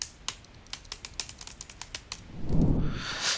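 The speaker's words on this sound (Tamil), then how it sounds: "இப்ப டைப் பண்ணி தரண்டா." Rapid keyboard typing in an office, a quick run of crisp clicking keystrokes, then the typing gives way to a louder rustling swell near the end.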